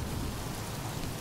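Steady rain in the video game Road 96, a dense, even hiss of falling rain that fills the whole moment without a break or any voices.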